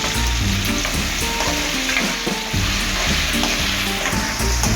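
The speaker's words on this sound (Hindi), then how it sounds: "मसाला भी फ्राई हो जाएगा" Green chillies, garlic and leftover masala fry in a pan for chicken pickle, giving a loud, steady sizzle with stirring scrapes throughout and no talking.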